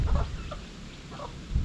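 Backyard hens giving a few short, soft clucks, quiet scattered calls heard at a moderate distance over low background rumble, with no talking.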